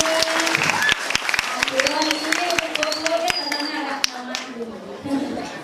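Audience applause at a comedy show in Batuan, dense rapid clapping from a crowd throughout, with voices and music-like tones running underneath.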